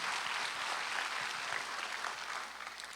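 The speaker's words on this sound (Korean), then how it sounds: "깨달은 사람만 박수 한번 쳐봐요." A church congregation at a Sunday worship service claps together in a steady, dense burst of applause that thins slightly toward the end.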